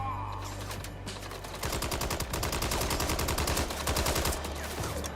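Rapid gunfire from the video game Red Dead Redemption 2, a dense volley of sharp repeated shots that starts after a brief lull and keeps up for several seconds at moderate loudness with no talking.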